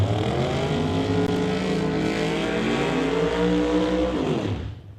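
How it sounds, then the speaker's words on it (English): Two drag racing cars launch side by side down the strip at an outlaw shootout, one a 1937 Chevy, their engines roaring loud and sustained with rising pitch for about four seconds before cutting off abruptly. "Both cars in the water box, getting set, get the go-ahead."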